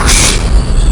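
An airstrike explosion booms as a loud, full-range rumbling blast that fills the whole second without letup.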